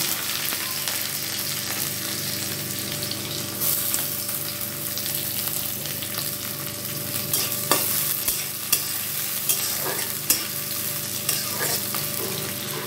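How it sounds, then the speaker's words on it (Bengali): Onions frying in oil with cumin seeds for a rohu fish curry, a steady close sizzle with frequent scrapes and clinks of a spoon stirring the pan, continuous throughout with no talking. "পেঁয়াজটা আমার এখানে লাল করে ভাজা হয়ে গেছে"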